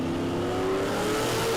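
An XD Falcon drag car launches off the line at a drag strip, a loud, sustained engine roar with a steady rising pitch filling the whole moment without talk.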